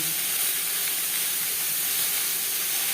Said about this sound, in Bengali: লবণ হলুদ দিয়ে পটল হালকা করে ভেজে নিলাম